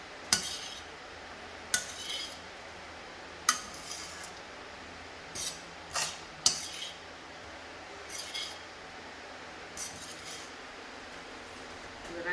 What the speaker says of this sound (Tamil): இதில் வந்து இப்போ ரைஸை நம்ம போட்டு மிக்ஸ் பண்ணலாம்.